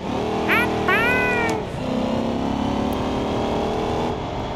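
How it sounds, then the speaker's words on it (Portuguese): A V8 drift car with a supercharger in the BeamNG.Drive video game revs and sweeps through rising and falling engine notes, with a faint supercharger whine beneath the loud exhaust drone. "o supercharge aí tá cantando, né? Tá baixinho, mas tá cantando"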